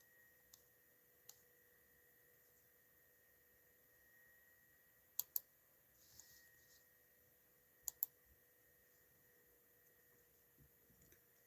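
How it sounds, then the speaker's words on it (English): Computer mouse clicks come through faintly and sparsely, a few isolated single and double clicks over a quiet background hum. "Just clicking on a few things here."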